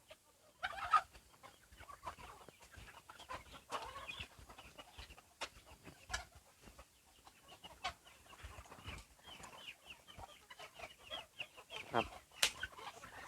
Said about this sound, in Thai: นี่จะเป็นไก่บ้านกับเป็ดครับ